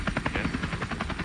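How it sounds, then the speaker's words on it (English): A news traffic helicopter's rotor thumps in a steady rapid rhythm, loud and close with engine whine, alone with no voices. "The helicopter's way too loud."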